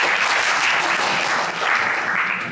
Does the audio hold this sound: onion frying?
no